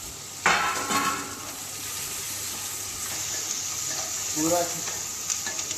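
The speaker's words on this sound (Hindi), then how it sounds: "अब डाल रहे हैं हम प्याज" Onion dropped into hot oil with cumin, a steady sizzle rising after the addition, with stirring clinks and a brief spoken word.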